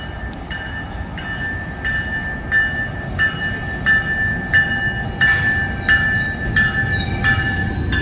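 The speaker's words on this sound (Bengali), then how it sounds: "আর একটা ট্রাই রেল চলে আসছে" A Tri-Rail commuter train rolls into a station, its wheels squealing in repeated high, pulsing whines over a steady low rumble of rail cars, close and fairly loud, with no talking.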